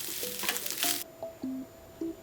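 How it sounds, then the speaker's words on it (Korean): Eggs scrambling in olive oil in a hot pan for a tortilla sandwich: a close, sizzling fry lasts about a second and then cuts off, followed by a few short, clear electronic beeps. "달군 팬에 올리브유를 두르고 계란을 스크램블 해줍니다."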